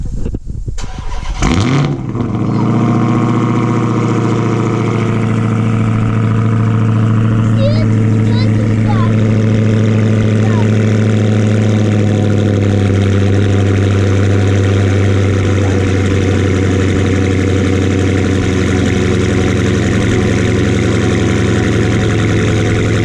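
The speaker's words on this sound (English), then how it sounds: "It is time for a cold start." A car engine cold-starts with a quick crank and a loud catch, then settles into a steady, deep, rumbling idle that continues close by for the rest of the clip. Faint voices sit underneath.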